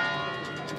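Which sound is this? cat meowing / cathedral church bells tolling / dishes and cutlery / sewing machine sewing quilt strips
cathedral church bells tolling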